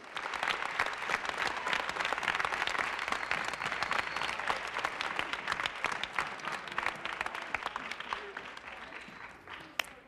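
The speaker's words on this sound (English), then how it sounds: "I think we ought to give God a hand clap of praise tonight for that song." A church congregation gives sustained applause of praise after a song, a dense wash of many hands clapping at moderate volume that holds steady for several seconds before thinning near the end.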